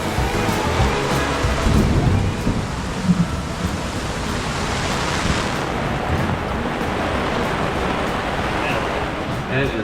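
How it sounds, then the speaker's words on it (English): A heavy downpour from a storm cell pours down around a sailboat on Long Island Sound, a dense, steady roar of rain that fills the whole clip with no break. "turned into a serious downpour right before"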